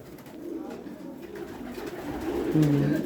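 Domestic home-bred pigeons cooing in a breeding setup, a soft low coo rising near the end over a quiet background.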